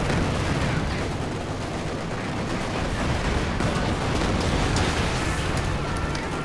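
Dense, continuous gunfire and artillery rumble from a Company of Heroes 2 battle on the Soviet side fill the whole stretch, with overlapping shots and booms forming a loud, unbroken wall of combat noise.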